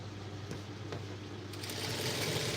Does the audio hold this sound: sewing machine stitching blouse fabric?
yes